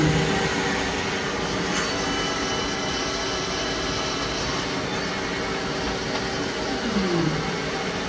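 A Citizen L20 CNC Swiss lathe subspindle spins at 3,000 RPM, giving off a loud, steady machine whine and hum that stays constant throughout.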